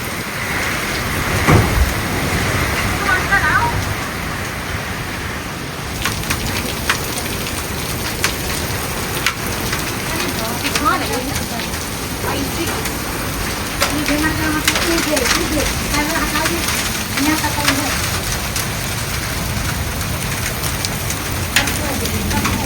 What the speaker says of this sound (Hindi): बड़ी खतरनाक आंधी आई।